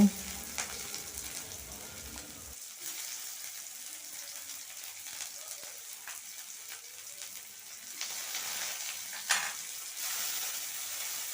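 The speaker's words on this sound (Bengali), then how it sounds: "তারপর পেঁয়াজ কুচি লঙ্কা কুচি ধনে পাতা কুচি দিয়ে আমি একটু ভেজে নেব" Chopped onion, chili and coriander hit hot oil in a kadai after a short clatter, then fry with a steady bright sizzle that swells louder near the end.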